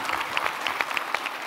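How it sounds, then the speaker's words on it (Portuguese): Comedy club audience in Braga claps steadily at a stand-up show, a dense patter of many hands kept up at moderate loudness without voices on top. "Podem bater palmas"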